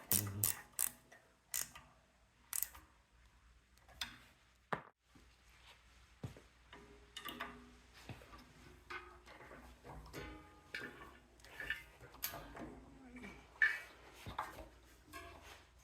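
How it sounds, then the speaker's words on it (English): Ratchet wrench with a 9/16 socket tightening a bolt on a Troy-Bilt tiller during a Predator engine swap: bursts of quick, close mechanical clicks come in short runs between pauses and light handling noise. "Screw that bolt in. Tighten it up with our 9/16."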